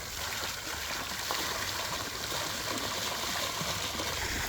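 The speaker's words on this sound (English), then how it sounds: "You like the geyser?" Water from a backyard DIY pond geyser splashing and trickling steadily, with wind blowing the spray around, a continuous moderate rush with no talk.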